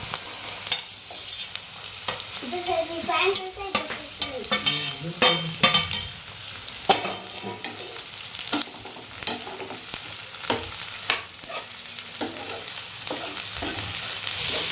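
Onion, green and red capsicum and carrot stir-fry in a hot pan for pasta, giving a continuous sizzle with repeated scraping stirs of a spatula, close and loud, without speech.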